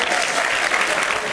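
Dense, continuous audience applause at a stand-up comedy monologue show, a brief full wash of clapping filling the whole moment.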